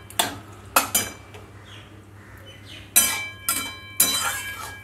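Pasta being stirred in a pan while its starchy cooking water is worked in, heard as a few sharp clinks of utensil on pan at irregular intervals over a steady low hum, with no talking.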